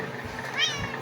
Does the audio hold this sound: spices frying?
no